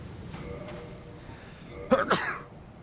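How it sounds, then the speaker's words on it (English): Two sharp, close sneezes burst out near the end, loud against a quiet background with a faint tonal sound earlier. "apparently continue sneezing"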